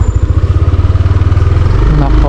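A motorcycle with wide, thick tires rumbles loud and close along a rough rural road, its engine pulsing steadily with a clattering chug.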